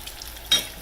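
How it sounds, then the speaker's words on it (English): Apple fritters for an old-fashioned fried pastry recipe sizzle in hot oil, a close, steady crackle with a brief louder hiss of bubbling midway. "They're really frying up pretty."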